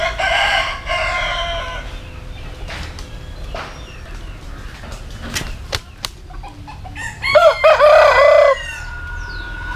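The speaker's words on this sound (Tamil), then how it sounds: "இது சேவல்" A fighting rooster crows loudly nearby twice, with clucking, wing flapping and a few thumps between the calls, outdoors in Jaffna.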